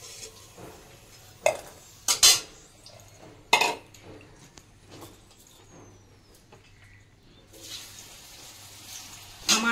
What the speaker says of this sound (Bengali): আলুটা যে ফ্রাই হয়েছে আমি স্টিলের বাসনে উঠাচ্ছি, একটা আওয়াজ হচ্ছে